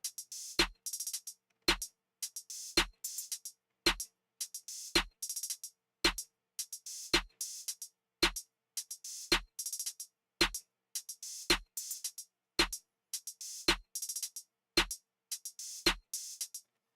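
Steady drum pattern of sharp snare cracks and hissing open and closed hi-hats repeating evenly, isolated with no talking.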